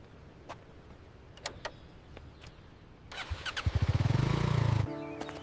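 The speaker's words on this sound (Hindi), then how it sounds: "अरे भाई कुणाल, बाइक खराब हो गई यार।" A broken-down motorcycle engine sputters and tries to start after several sharp clicks, then chugs in a rapid rough rhythm for about a second before cutting out, close and fairly loud.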